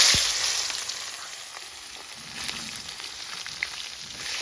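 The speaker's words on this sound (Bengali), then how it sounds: "এই তেলে আমি বেগুনগুলো ভেজে নেব" Eggplant pieces fry in hot oil in a pan, giving a continuous close hiss of sizzling with a sharp crackle at the start and small pops scattered through, no talk.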